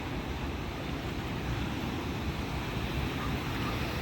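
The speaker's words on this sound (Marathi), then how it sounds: "मोठ्या मोठ्या लाटा येत होत्या" Steady roar of big surf and crashing waves at Shrivardhan Beach on the Konkan coast, continuous and broadband, with wind buffeting the microphone throughout.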